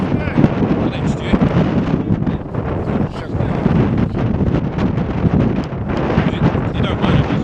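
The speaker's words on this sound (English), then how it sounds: "if the wind picks up a bit more" Wind blows across a canal during a fishing match, a loud, continuous rushing buffet that hits the microphone in uneven gusts for the whole stretch.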